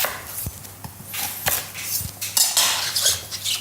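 A knife chops pumpkin into roughly inch-sized cubes on a board, giving a handful of irregular, fairly close knocks amid light kitchen clatter. No one speaks.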